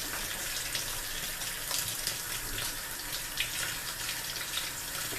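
Running tap water steadily rinsing a batch of uncooked, already deveined shrimp in a kitchen sink, a continuous close splashing hiss with no talking.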